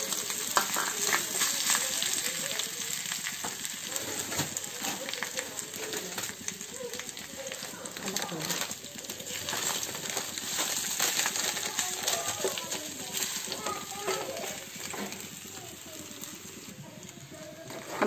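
Sabudana and potatoes roasting in a pan, a low continuous sizzle with repeated scraping and stirring clatter, close by, with brief faint voice sounds now and then.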